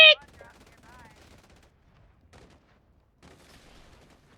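Automatic gunfire in the video game Farlight: a short burst of rapid shots at the start, followed by faint scattered game sounds and quiet talking.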